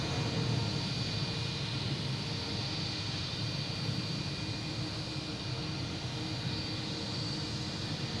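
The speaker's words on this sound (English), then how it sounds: "the Delta just took off" Delta airliner taking off at Boston Logan International Airport, a steady, broad jet roar that stays loud and constant throughout, heard from a distance with no voices.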